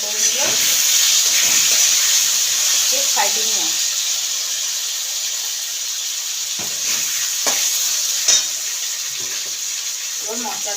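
Flat beans and potatoes sizzle in a pan with a steady, close frying hiss and occasional stirring scrapes, while a person talks over it.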